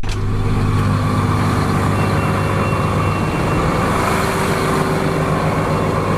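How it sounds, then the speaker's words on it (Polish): A Massey Ferguson 8730S tractor's 8.4-litre six-cylinder diesel idles outdoors at about 1000 rpm with a deep, steady throbbing rumble, loud and close, running evenly throughout. "Tak brzmi ten ogromny ciągnik."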